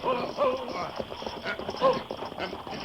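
A team of horses drawing a stagecoach clops along and is gradually brought to a stop, hooves and harness sounds rolling steadily, with a few whinnies and snorts over the top, close and moderately loud.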